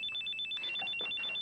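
A phone rings alone in a quiet room, its electronic ringtone repeating in short, evenly spaced trills.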